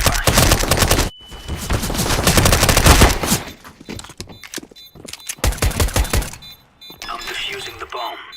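Gunfire and explosive bursts from a tactical shooter match, loud and dense, with a sharp blast and ringing tone near the start, then scattered shots and clattering effects amid game voices.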